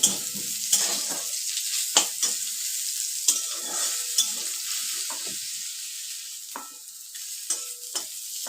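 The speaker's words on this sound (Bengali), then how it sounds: "করলাগুলো ফ্রাই হয়ে গেছে, তুলে নেব।" Bitter gourd frying in oil in a pan: a steady soft sizzle runs throughout, broken by several sharp scraping and stirring knocks, fairly close, with no voices.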